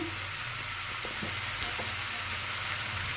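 Ingredients for Karnataka-style bassaru fry in oil with a faint, even sizzle. Soft stirring scrapes sound now and then over the steady hiss.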